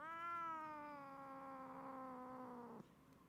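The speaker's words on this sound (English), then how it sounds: "So did you just give a shot to a cat there?" At a veterinary training program, a cat lets out one long, wavering caterwaul-like meow that cuts off abruptly, close but fairly quiet, with no talking.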